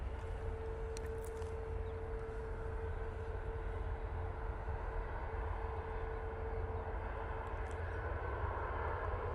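An aircraft taxiing at Manchester Airport, heard as a steady distant engine rumble and whine that holds evenly throughout with no talk.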